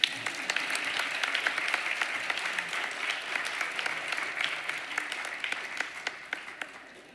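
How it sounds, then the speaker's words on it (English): An audience claps steadily at a 2023 medical school white coat ceremony, MCW-Central Wisconsin, a full room's applause sustained for several seconds before tapering off at the end. "You all can clap."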